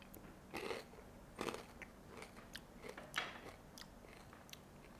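Crunchy bites and chewing of tiny garlic-butter crab snacks (tamago gani), close and fairly quiet, with several irregular crackling crunches spread over a few seconds and no talking.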